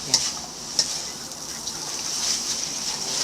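Drunken Mama instant noodles with large shrimp sizzle steadily in a hot pan as they are stir-fried, with a couple of sharp utensil clinks against the pan near the start.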